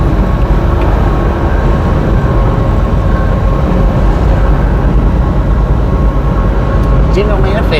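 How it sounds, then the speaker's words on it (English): A general manifest freight train with double-stack and lumber-rack cars rumbles past steadily, a dense low roar holding level throughout, with a faint squeal rising near the end. "General Manifest train."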